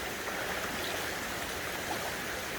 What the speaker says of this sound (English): little waterfall just coming out of the side of the mountain.